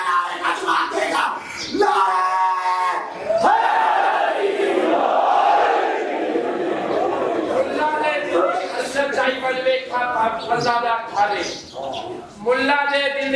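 A Muharram majlis crowd at an imambargah shouts a slogan back in loud unison, a swelling roar of many voices answering, alternating with a single leader's chanted calls.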